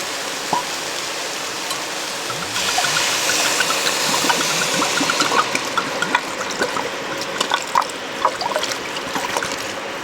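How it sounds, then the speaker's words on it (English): An entire bottle of Cabernet red wine is poured into a hot pot to deglaze it for braising a chuck roast, with a steady liquid rush and sizzle accompanied by small pops and crackles, close up, without voices. "Then I deglaze that with an entire bottle of Cabernet."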